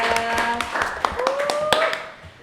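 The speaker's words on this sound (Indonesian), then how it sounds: "beri tepuk tangan dulu dong buat Altamis ya" A small studio audience gives a brief burst of scattered clapping for a podcast guest, crisp separate hand claps mixed with a voice talking over them and fading out by the end.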